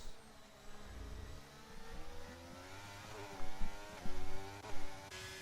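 Two McLaren race cars roar past in a racing video game, engines rising in pitch and surging loudly in several close bursts toward the end.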